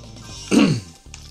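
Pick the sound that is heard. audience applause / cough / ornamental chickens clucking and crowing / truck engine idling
cough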